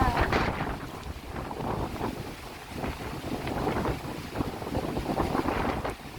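Strong wind buffets the microphone on a beach at Tumoy, Dolo, a steady loud roar with gusting swells and a faint wash of surf beneath.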